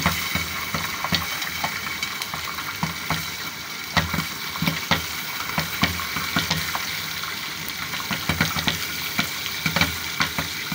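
Corn kernels frying in a pan with a bit too much oil for popcorn: a dense, close sizzle full of rapid sharp crackles and spits, continuous and with no talk.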